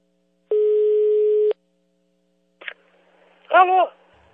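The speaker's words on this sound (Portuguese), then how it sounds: "a ligação caiu aqui" A phone busy tone sounds after a dropped call, one steady flat one-second beep, followed by a short click and brief voice-like noise on the line.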